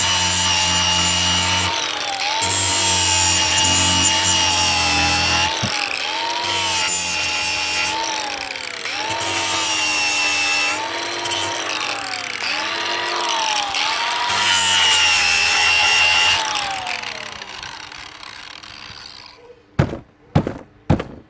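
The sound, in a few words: grinding down screws on a vent pipe boot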